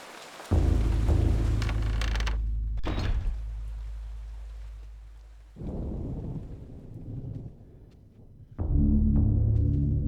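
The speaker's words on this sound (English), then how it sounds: "Such a great job on the sound effects in this game. The rain, the slight thunder." Rain and soft rumbling thunder from the video game Eternal Darkness, heard in several distinct bursts of steady downpour with low rolling rumbles, separated by brief quieter gaps, with no voices.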